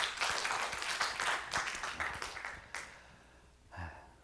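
A church congregation claps to welcome a visiting pastor, a dense burst of applause that fades out after a few seconds before a brief thump.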